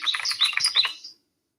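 A cardinal's song plays in a video game nature quiz as a quick run of bright, clear chirps lasting about a second, then silence.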